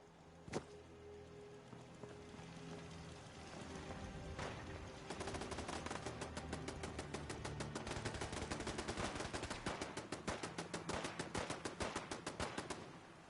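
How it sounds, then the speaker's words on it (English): Rapid automatic gunfire from a turret in Fallout 4: one early sharp shot, then sustained fast bursts of bangs that grow louder and denser for several seconds, with no talk over them. "The turret is going off."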